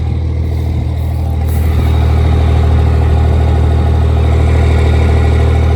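A VP44-injected Cummins diesel in a five-speed truck idles steadily nearby, a loud, continuous low rumble with a constant rhythmic chug and no talking over it.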